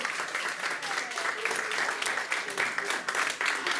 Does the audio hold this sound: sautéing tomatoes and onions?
no